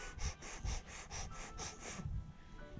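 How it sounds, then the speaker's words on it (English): A pregnant goat breathing heavily before giving birth, heard up close as about eight quick, regular, raspy breaths in steady rhythm, soft and faint, then a brief pause. "I don't know if you can hear her breathing"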